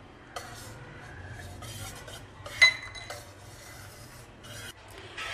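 A metal spoon clinks and scrapes gently against a pot while milk curdling with vinegar is stirred slowly for homemade mozzarella, with scattered soft rubbing strokes and one sharper clink.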